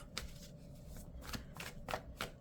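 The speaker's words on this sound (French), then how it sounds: "Je vais prendre une carte des chakras du cœur" A chakra card deck is shuffled at close range, giving several quick papery riffles and slides of cards in an irregular rhythm over a couple of seconds, soft and alone with no talking.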